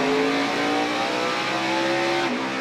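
NASCAR race cars roaring around the short track at Martinsville during a night race, a loud, sustained engine drone with rising and falling pitch as cars pass close by, and no one talking.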